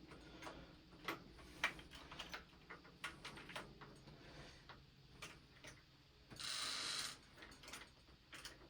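Bolts on a magnet bike are tightened with a ratcheting tool, giving faint, irregular clicks and ticks close by, with a brief steady hiss partway through.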